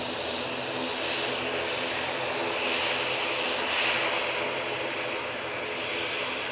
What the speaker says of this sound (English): And Aer Lingus prop now coming on, and we're going to focus on that.